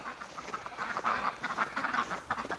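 A large male duck quacks in a winter pen, giving a quick run of close, raspy calls with short gaps between them.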